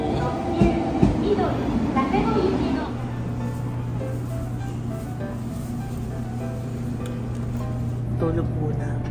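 The Huis Ten Bosch limited express train in Japan arriving, with a rumbling approach and a steady low mechanical hum, brakes and rail noise settling; a brief voice is heard near the start.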